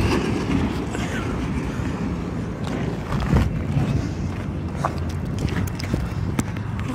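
A train rolls past a railroad crossing in a steady, loud rumble of wheels and rail cars, with scattered clicks and clacks over the continuous roar and no talking.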